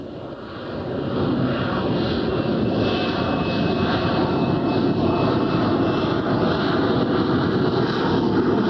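Harrier jet attack aircraft in flight, a steady loud engine roar with broadband rumble and whine, rising briefly at the start and then holding constant throughout, with no voices.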